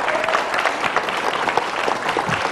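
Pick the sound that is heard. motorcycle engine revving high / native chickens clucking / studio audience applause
studio audience applause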